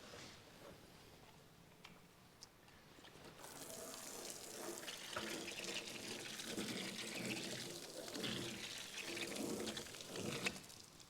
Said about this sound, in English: I'm going to probably do one last rinse here